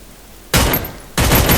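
P90 gunfire in the Free Fire video game comes as two loud, close bursts of rapid fire separated by a short pause.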